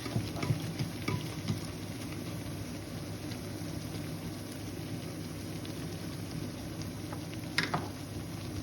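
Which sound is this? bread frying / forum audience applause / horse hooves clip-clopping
bread frying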